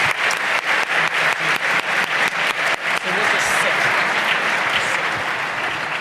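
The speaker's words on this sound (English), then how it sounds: "Round of applause." Audience at an annual economic outlook event applauds its panelists, starting with sharp, distinct near claps that merge into a dense, loud sustained ovation, and a voice speaks briefly over the start.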